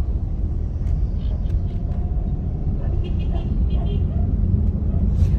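Road traffic rolling past along a street in Subic town near the bay, a continuous low rumble of cars and larger vehicles with faint passing whooshes, steady and moderately close throughout.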